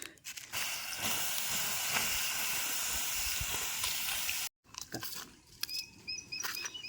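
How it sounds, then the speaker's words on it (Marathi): A loud, steady hiss with crackling pops as an outdoor fish-roasting fire is doused, then a brief silence followed by softer sputtering and a few high chirps. "ही आग आहे ना ती विजवायची आता"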